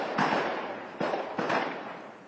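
Blasts from an ammunition depot exploding in Afrin come as three rough, booming bursts in quick succession, each with a sharp onset and a rumbling decay, heard from a distance with no voices.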